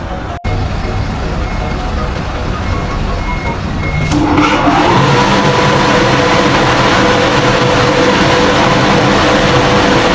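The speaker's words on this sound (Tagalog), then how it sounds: "Pa-testing muna natin yung makina." A vehicle engine being run and revved after an exhaust pan repair, a loud, steady, close mechanical drone that swells and stays stronger from about the midpoint onward.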